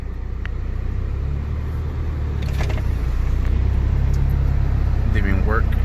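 A tuned car drives through city traffic, its engine a steady low rumble that swells slightly as it goes, with faint squeaks and ticks on top and a voice speaking over it.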